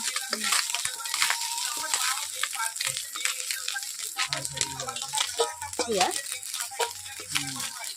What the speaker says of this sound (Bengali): মাছগুলোকে আমি হালকা ভেজে নিলাম